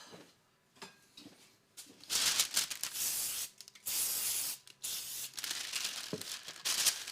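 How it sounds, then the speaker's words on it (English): Several short bursts of cooking spray hiss in quick succession onto the sides of a parchment-lined pan, close and fairly loud, separated by brief quiet gaps. "I'm actually going to spray the sides though."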